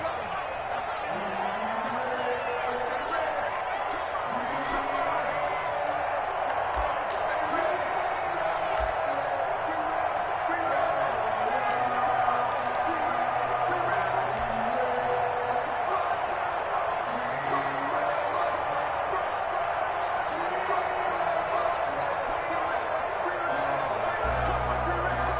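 A packed NFL stadium crowd at a Baltimore Ravens versus Seattle Seahawks game keeps up a steady, dense roar of chatter and cheering, with a commentator talking over it.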